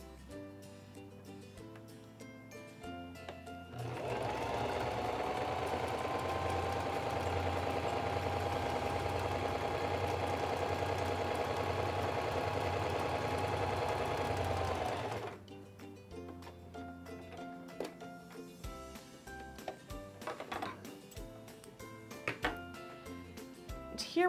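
A SINGER 2273 Esteem II sewing machine running a narrow, short zigzag stitch, a steady mechanical whir for about eleven seconds, with quiet clicks and handling noises before and after.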